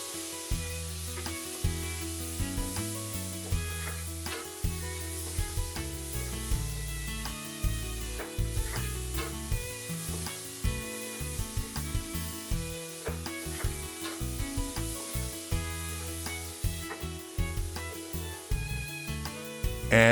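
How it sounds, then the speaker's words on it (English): Diced onion sizzles and fries in rendered bacon fat, a steady crackling hiss punctuated by regular scraping stirs of a utensil in the pan. "Then add diced onion and mix it in the bacon oil."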